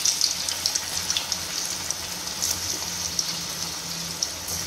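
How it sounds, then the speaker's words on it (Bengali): Balls frying in hot oil in a pan, a steady soft crackle and sizzle with small popping bursts throughout, fairly quiet and without talk. "তো তেলটা একটু হালকা গরম হোক, তারপর আমরা বলসগুলো ভাজবো।"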